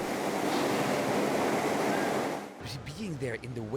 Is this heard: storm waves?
yes